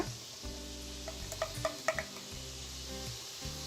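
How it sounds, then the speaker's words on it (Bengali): Spice masala of turmeric, red chilli and coriander powders frying in a pan, a quiet steady sizzle with a few soft stirring clicks and scrapes near the middle, no voices. "মশলাটাকে একটু ভুনা করে নিচ্ছি"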